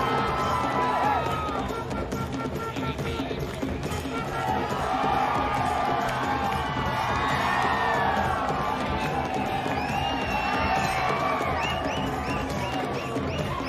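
Large outdoor crowd at a village festival kabaddi final roars and cheers continuously, a dense wash of shouting voices with rising excited swells, including children's shouts, throughout.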